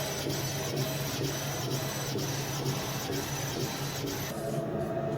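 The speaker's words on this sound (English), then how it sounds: "Just laser in a few parts." A laser engraver cutting parts runs with a steady, loud mechanical whir and rhythmic pulsing ticks about every half second, continuous throughout and alone without voices.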